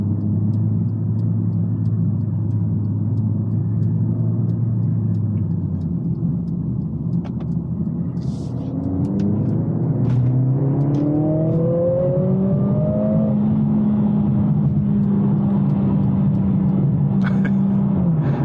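A Mercedes CLA45s AMG in race mode on a night drive: a steady engine drone drops briefly, then the engine climbs through rising revs and holds a loud, strained note, heard from inside the car.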